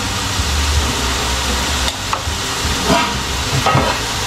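Tomatoes simmer in a covered pan, giving a steady, moderately loud bubbling sizzle with soft hissing and occasional faint lid or utensil taps, no voices.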